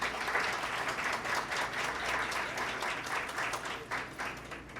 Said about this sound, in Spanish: Un aplauso, por favor, para el doctor.